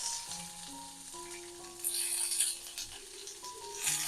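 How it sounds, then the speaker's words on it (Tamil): Onions frying in oil with mustard seeds, urad dal, dried red chillies and curry leaves, making a faint, steady sizzle under sustained tonal background sounds, with a brief louder hiss midway and no voices. "இங்கே வந்து வெங்காயம் வதங்கட்டும்."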